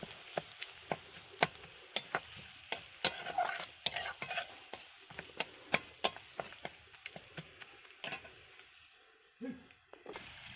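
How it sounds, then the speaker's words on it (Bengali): Garlic frying in a pan while being stirred, with sharp irregular scrapes and clicks of a utensil against the pan over a faint sizzle, quiet and close, no voices. "সেই গন্ধটা ততক্ষণ আমায় রসুনটা ভেজে নিতে হবে"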